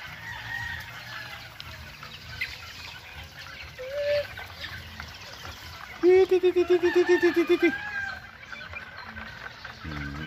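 Young game fowl chicks under a protective net peep and cluck, with a nearer bird giving a longer rhythmic run of clucks partway through over a busy background of chirps.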